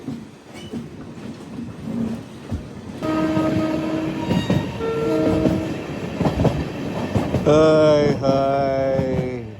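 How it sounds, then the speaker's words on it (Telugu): The Amrit Bharat Express, running its inaugural journey from Nagercoil Junction to Hyderabad, rolls along with wheel clatter while its horn sounds in several separate blasts, louder and longer toward the end. "ఎందుకో హాంకింగ్ మీద హాంకింగ్ కొట్టుకుంటూ వెళ్తుంది బండి"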